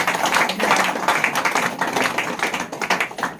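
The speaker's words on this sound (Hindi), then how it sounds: "आइए इस वचन के लिए ताली बजाएंगे सब लोग" A church congregation at a prayer meeting claps together in a loud, sustained wash of hand claps, with dense irregular rhythm filling the room.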